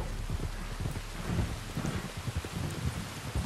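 Rain pours steadily in the video game Red Dead Redemption 2 while low rumbles of thunder roll beneath it, with no voices.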